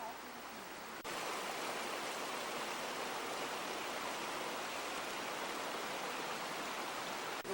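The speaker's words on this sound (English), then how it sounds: "The river splits in half, comes through the weirs, goes straight down here, drops into a pipe" River water at a family-owned trout and carp farm pours steadily through the weirs, making a loud, continuous rushing roar that holds without a break for the whole stretch.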